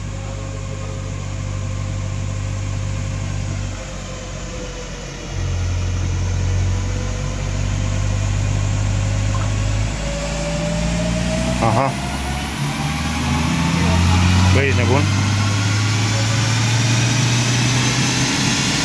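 A VW Passat B8 engine revs on a dynamometer during a stock-software run, a steady droning engine tone with rising pitch sweeps and louder surges near the end, while people talk over it.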